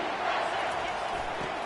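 Football stadium crowd at a college game roaring steadily as a short-yardage play unfolds, a broad, sustained wash of cheering voices heard from within the stands at fairly even loudness throughout.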